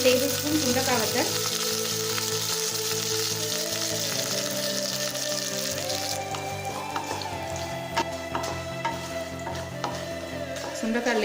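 Dried turkey berries sizzle in hot sesame oil in a kadai with mustard seeds, urad dal and curry leaves, a dense steady crackle with occasional stirring scrapes, close and loud throughout.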